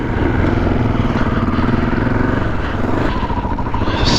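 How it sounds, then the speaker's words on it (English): A KTM 450 motorcycle engine runs on a trail ride, a loud, close, continuous rough engine drone with no speech throughout. "Leo's taken the T7 and I'm on the KTM 450"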